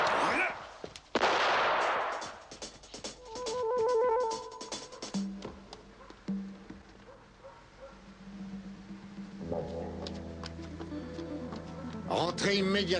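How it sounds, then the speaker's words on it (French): Several sharp gunshots crack out early on, followed by a stretch of mixed noise with a dog barking and other background sounds. "Les coups de feu venaient de ce coin-là."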